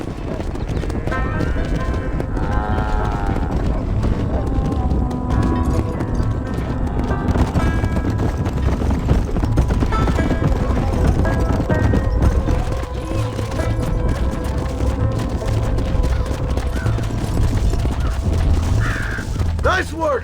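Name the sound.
horses' hooves clip-clopping in the Red Dead Redemption video game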